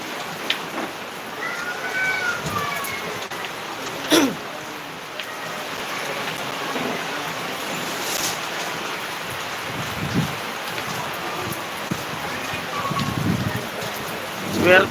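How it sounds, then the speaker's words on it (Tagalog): Steady rain patters down over a live stream near Mayon in Albay, a dense broadband wash with scattered louder drips and splashes, and faint background sounds mixed in. "Talagang umulan."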